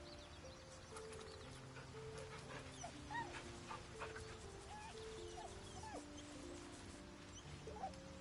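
A dog whimpers and yips softly in Baldur's Gate 3, faint scattered whines over a quiet ambient music bed, with an occasional bird-like chirp.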